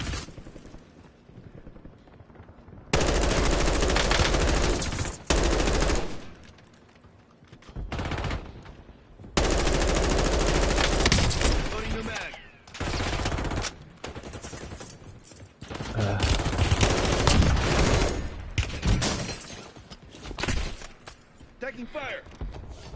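Loud bursts of automatic gunfire and repeated shots in a Call of Duty match played on PlayStation, coming in long rapid volleys separated by brief lulls, with a player's voice talking over the action.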